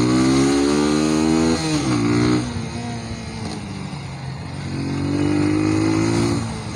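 A Yamaha FZ motorcycle engine and exhaust revving close by: a loud, harmonic-rich drone that climbs and falls, settles to a lower idle, then rises again, with no talk over it.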